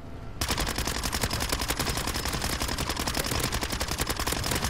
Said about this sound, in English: This gun's so good. Like, it sounds so nice as well. It's way too loud.